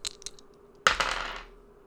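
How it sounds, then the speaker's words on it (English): Percentile dice for a tabletop role-playing game are thrown onto a hard table. A few faint clicks come first, then a sharp clatter and a short rattle that quickly dies away, with no talking. "Give me a credit rating roll. The 2 with the Are you The sure? two Sorry. together. Here? The percentile dice."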